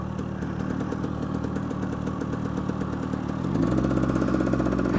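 A KTM 300 EXC dirt bike engine idles with a steady, close, buzzing clatter, then picks up into a slightly higher, louder beat for the last second and a half.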